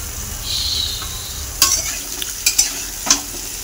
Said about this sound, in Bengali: তো এবার আলু আর পটলটা ভালো করে ভেজে নেবো মশলার সাথে।